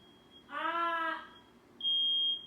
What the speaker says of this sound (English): Fire alarm's going off now.